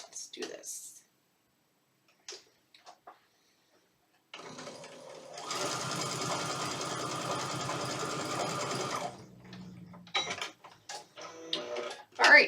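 A sewing machine stitches cotton quilt fabric: after quiet pauses and brief handling sounds, a steady whirring, rapid-ticking run of stitching lasts about five seconds before stopping, followed by rustling and a voice.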